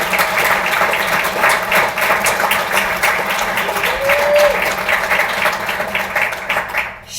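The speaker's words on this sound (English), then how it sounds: "that is again worth a little applause" Audience applause at a speech event honoring a public official, a full sustained round of clapping from a large crowd, steady and loud before tapering off at the end.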